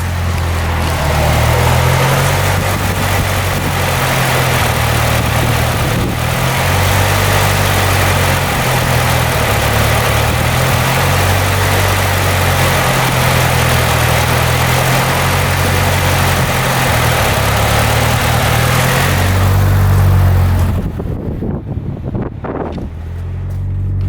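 A Nissan 200SX S14a with an unsteady idle runs loud and close, a low engine drone with a rhythmic surging pulse throughout, cutting away near the end.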